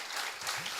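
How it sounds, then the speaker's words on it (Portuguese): A church congregation claps in a short, even burst of applause that sounds fairly faint and diffuse, filling the moment without any voices on top. "Quantos podem dar uma salva de palmas ao Senhor Jesus por isso?"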